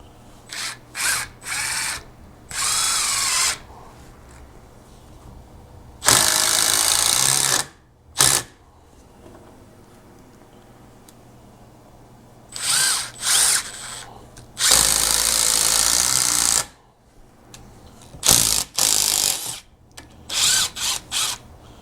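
A power drill drives old salvaged deck screws into wood for a camper hauler storage deck, giving loud whirring bursts of a few seconds each, separated by quiet pauses, close to the listener.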